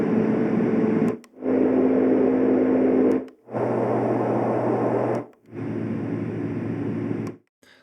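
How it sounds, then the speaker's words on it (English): A LectroFan Classic white noise machine plays a loud, steady hiss in four separate bursts, with short silent gaps between them as the sound is switched. "but similar white noise and fan sounds."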